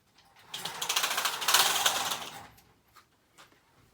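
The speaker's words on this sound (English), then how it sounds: "And I just went to open my blinds just to make sure we're getting good light." Window blinds being opened indoors, a rapid rattling clatter of slats that builds quickly, stays loud for about two seconds, then settles into a few faint knocks and taps.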